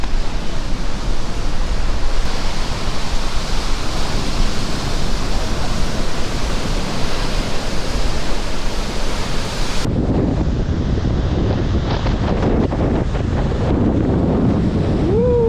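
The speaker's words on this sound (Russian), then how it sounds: "Вот посмотрите, какие волны." Huge sea waves crash continuously and loudly near the shore, a dense roaring surf with heavy wind buffeting the microphone throughout.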